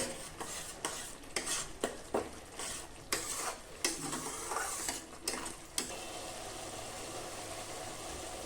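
A vegetarian spice paste with a spoonful of ginger paste is stir-fried in a pan for potato curry. Several sharp spatula scrapes and knocks ride over a close sizzle, then the stirring stops and a smooth, steady frying hiss continues alone.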